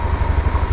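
A Honda Vario 125 New Gen 2 scooter, after two years of use, idles right after starting. Its engine throbs in quick, even low pulses close by.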